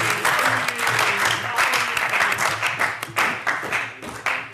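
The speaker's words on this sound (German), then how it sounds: "Großen Applaus." Applause at a Pirate Party parliamentary group meeting, brisk clapping from a modest group in a room, with individual claps audible throughout and murmured talk underneath.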